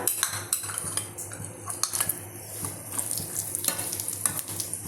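Dry coconut pieces and cashew bits fry in a pot for sweet payasam, with a soft sizzle under repeated clinks and scrapes of a metal spoon stirring against the pot.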